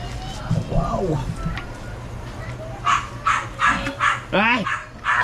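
Several sharp dog barks ring out near the end, following a stretch of Filipino talk, with the barks coming in a quick irregular series over background chatter.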